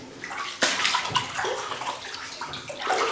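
Someone wades through ankle-deep water inside an old bunker, making close sloshes and splashes in uneven steps with a sharp splash early on, and no one talks.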